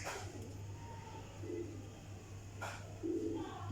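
Pigeons cooing softly, a couple of low murmuring coos at a steady pace against a hiss of background noise, with a faint rustle now and then.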